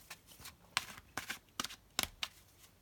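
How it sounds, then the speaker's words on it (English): Tarot cards are shuffled by hand in several quick, crisp riffling bursts separated by short pauses, close and fairly quiet, with no talking. "I'm smiling actually when I'm shuffling those cards."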